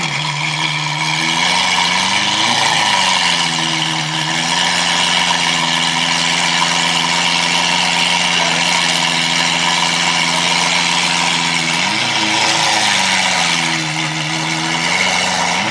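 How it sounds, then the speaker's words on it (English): A Lamborghini Aventador S with an aftermarket exhaust idles loudly and steadily, its deep rumble close and continuous, with brief revs rising and falling partway through. "My God, this car is loud."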